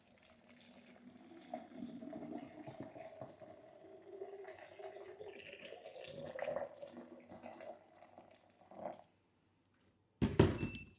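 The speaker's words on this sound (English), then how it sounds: "now we're gonna put the water in." Water poured into a thermal yogurt maker flask, a soft splashing trickle that runs for several seconds, pauses, then ends with a short louder splash and clunk.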